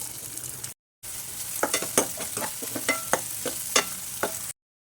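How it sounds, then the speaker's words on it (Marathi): Onion and cumin fry in hot oil in a heated wok, a close crackling sizzle broken by a string of sharp pops and spatters, with brief cut-outs of silence near the start and end. "कढई तापलेलं आहे त्याच्यामध्ये तेल घालायचं एक दोन चमचे जिरे चमचा कांदा घालायचा"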